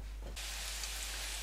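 Fish patty sizzling in a hot pan with inexpensive olive oil, a sudden broadband hiss starting about a third of the way in and holding steady and close to the end with no talk.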